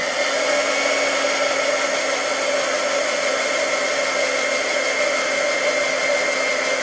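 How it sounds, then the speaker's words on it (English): A hair dryer blasts continuously over small acrylic paint pieces, a close, steady, loud whooshing hum with no variation or voices throughout. "I have to dry it in between or it's just going to smear around."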